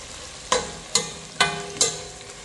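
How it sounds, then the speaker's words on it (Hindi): Long-sliced onions in a pan for yakhni pulao, heard as four sharp, evenly spaced clacks of a spoon against the pan over a faint sizzle, close up and without speech. "यखनी पुलाव की तैयारी मैंने कांदा सब अच्छे से लंबे लंबे काट के यहाँ पर फ्राई करने के लिए रख दिया है।"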